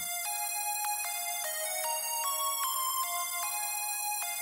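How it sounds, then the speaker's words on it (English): Bright synth lead from the Nexus preset Modern Luke, panned hard right, playing steady held notes that step between pitches in a clear repeating melody, loud and alone with no voices. "to make the lead I used a preset from Nexus called Modern Luke"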